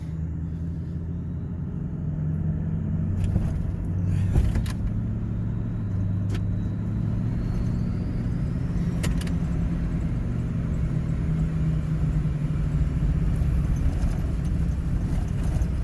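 A 2009 Ford F250 pickup with a 6.4 Powerstroke diesel and a freshly replaced injector, heard on a test drive: a steady low engine rumble and road drone from inside the cab, with a few faint clicks and taps early on.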